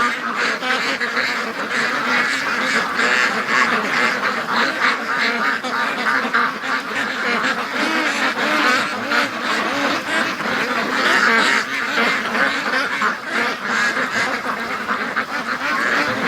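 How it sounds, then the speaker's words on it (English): A flock of free-range ducks quacks continuously and loudly close by, many overlapping calls forming a dense, steady chorus with no talk. "He's with the ducks."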